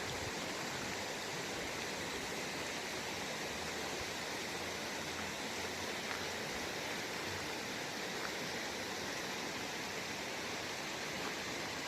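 A river rushes steadily beside a footbridge, a continuous broadband hiss with no breaks, close and fairly loud throughout.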